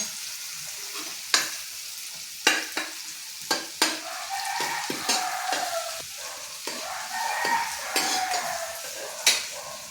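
Onions frying in a pan for an arbi and potato curry, with a steady sizzle broken by sharp metal clanks and scraping stirs at irregular intervals, close and alone.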